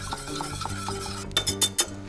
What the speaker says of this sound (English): And just whisk it all together